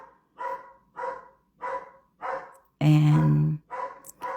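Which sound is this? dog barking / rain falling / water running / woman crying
dog barking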